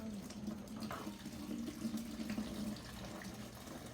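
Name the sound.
pouring off fermented plant juice liquid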